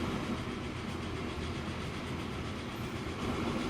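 A train rolls steadily through a Transport Fever 2 city game world, giving a continuous, even rumble with faint clickety-clack from the wagons, at a constant moderate level with no talk.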